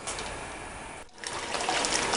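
Water runs steadily onto a silicone sluice mat at a Miller table-style cleanup setup, a close, hissing flow with a brief dip midway before pouring on.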